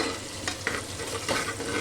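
A ladle stirs tomato rice in a pan, giving a few soft scraping strokes over a faint sizzle, close and quiet with no talking.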